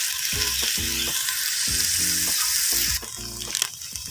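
Clams (halaan) sautéing in a pan for a ginisang soup, giving a steady loud sizzle and frying hiss with repeated stirring scrapes and clinks throughout, no voices.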